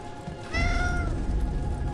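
A cat in Dragon Age: The Veilguard gives one clear, drawn-out meow partway through, loud and close over low game ambience, with no talking.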